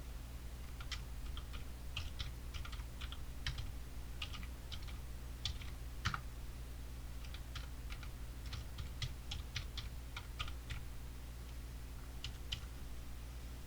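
Steady keyboard typing in irregular bursts of quick clicks with short pauses, close by, over a low constant hum.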